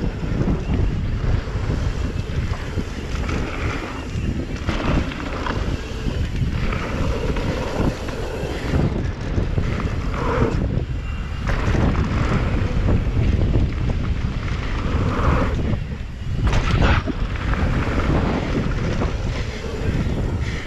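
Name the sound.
strong wind on mountain bike ride, wind noise on microphone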